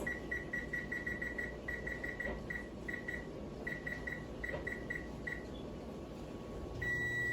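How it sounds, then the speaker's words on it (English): An oven timer going off while bread bakes, sounding a rapid series of short, high electronic beeps in quick bursts with brief pauses, steady and moderately loud over a low background hum. "when the timer goes off, it's time to take your bread out of the oven"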